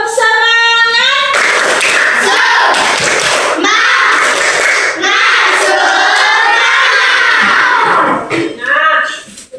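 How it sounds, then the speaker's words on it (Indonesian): Schoolchildren in a classroom chant the 'tepuk semangat' clapping routine, loud and close, with a teacher's voice calling it in before a rhythmic mix of shouted voices and hand claps that ends abruptly. "Tepuk semangat."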